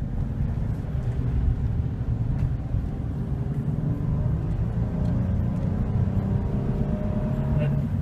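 A 2014 Chevy Silverado 1500 truck with a 4.3 V6 accelerates, its low engine drone and road rumble steady from inside the cab, climbing gradually in pitch.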